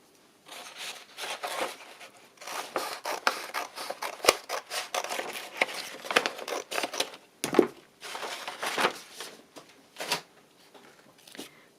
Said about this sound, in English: I've got this quite thick packaging card, which might be the right thing. Let's cut a piece of that off.